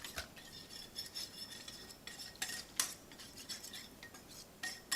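Spiced ground beef and spinach are stirred together in a dish for a Lebanese beef and spinach meal, giving close, quiet scraping and clinking of a utensil against the dish in uneven bursts, with no talking.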